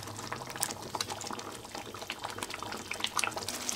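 Ghee and coconut oil go little by little into thick beetroot halwa while it is stirred in a pan, giving wet bubbling, sizzling and sloppy stirring sounds with small splats, close up and steady.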